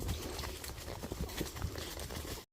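Hooves of a horse on a ride clip-clopping in a quick, uneven rhythm, close but fairly quiet, with no voices.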